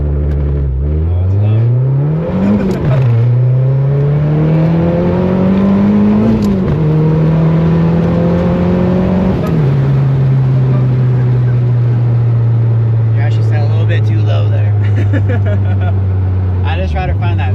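A 2013 Mazdaspeed 3 engine revs repeatedly, pitch climbing and dropping in several surges before settling into a steady high drone; close and loud, with faint voices near the end.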